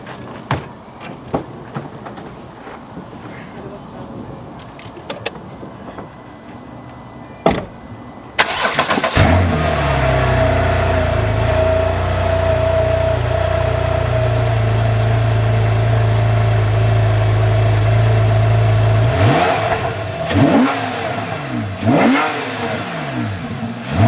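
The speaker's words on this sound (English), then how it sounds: "I'll leave my microphone here at the bottom, and I'll start the exhaust." A Porsche 911 Carrera S (991.1) engine cranks and catches after a quiet stretch, then settles into a loud, steady idle close by, with a brief rev near the end.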